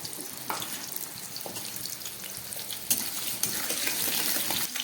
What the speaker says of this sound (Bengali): আমি একদম প্রথমে একটু আলুগুলোকে ভেজে নিচ্ছি।